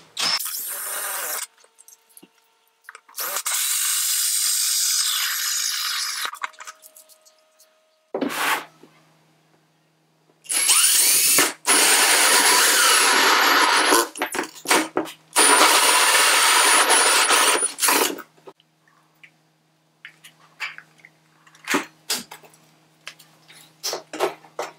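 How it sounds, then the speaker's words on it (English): A large hole saw on a power drill cuts holes through a plastic still air box for growing mushrooms, loud close whining bursts of drilling separated by pauses and sharp clatters. "I'm lucky enough to have a big ass hole saw that's about the right size for me. So we'll just go ahead and punch some holes right on through."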